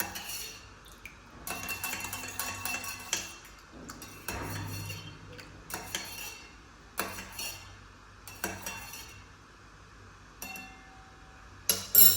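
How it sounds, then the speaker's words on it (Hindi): A metal spoon clinks and scrapes against a bowl while stirring a mixture with squeezed lemon juice, in bursts of sharp close strokes separated by short pauses. "Spoon is here. मिक्स करते हैं इसे।"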